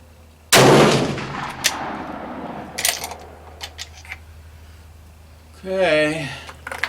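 A single loud, sharp shot from a Steyr rifle chambered in 7.5x55 Swiss, fired at an outdoor range, booms close and decays slowly, followed by faint clicks and a brief voice.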